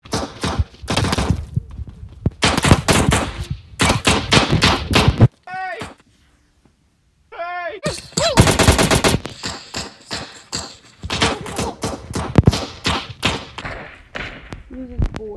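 Loud bursts of rapid automatic gunfire in the battle royale video game PUBG, several dense volleys with a brief lull and short whooshing effects between them.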